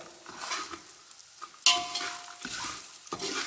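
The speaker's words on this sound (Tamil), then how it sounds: "இப்படி வறுக்கணும். இது கொஞ்சம் கடலை கொட்டை கொஞ்சம் சிகப்பாகணுங்க." Peanuts dry-roasting in a pan for kara pori, stirred with a utensil: soft rustling scrapes with a dry sizzle, a sharp metallic clink partway through and another knock near the end, close and moderately loud.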